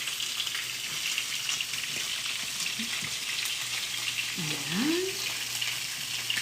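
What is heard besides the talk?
stirring saffron risotto in a pan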